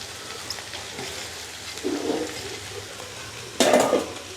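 Cabbage, leeks and carrot stir-frying in a pan in a village kitchen, a low steady sizzle broken by two bursts of scraping and clattering as a utensil stirs against the pan, with no talking.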